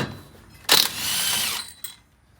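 A ratchet spins a 13 mm bolt loose from the secondary clutch of a 2005-2009 Polaris Ranger 500 UTV during transmission work, giving one loud burst of close mechanical clicking and whirring that lasts about a second, then a short final click.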